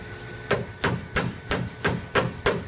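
Hammer taps drive a dowel back into a small die, six evenly spaced dull knocks, moderately loud and close, with no talking.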